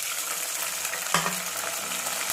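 Chopped tomatoes and onions fry in a pan with a continuous bright sizzle, broken midway by one distinct clank of a spoon or pan as stirring carries on.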